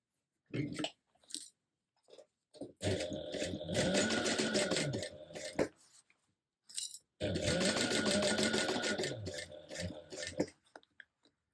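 Sewing machine stitching a bag lining at a half-inch seam, two sustained runs of rapid mechanical whirring and needle clatter, separated by short bursts and pauses, close and clear.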